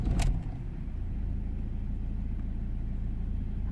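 A BMW X3 2.0d diesel engine cranks with a brief burst and settles into a steady, low idling rumble nearby, with no talking.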